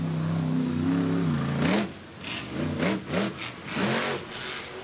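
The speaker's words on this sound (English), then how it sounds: "Huge sky wheelie to get things started." Monster truck at a Monster Jam freestyle run on dirt, lifting into a sky wheelie: a loud, deep engine drone climbs, then breaks into a series of sharp revving bursts, with no talking.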